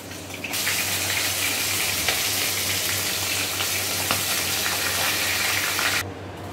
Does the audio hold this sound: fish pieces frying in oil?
yes